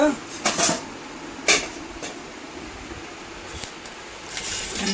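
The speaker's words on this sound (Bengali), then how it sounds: "ভাতের থালা সাজিয়ে দিচ্ছি" Metal plates of rice are set down with meat curry, sharp close clinks and clatters in a few separate bursts, with quieter gaps and faint room noise between them.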